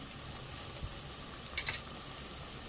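Spices for panchmel dal, including red chili powder, garam masala and coriander-cumin powder, sauté in a pan with a steady, fairly quiet sizzle and a few brief stirring scrapes.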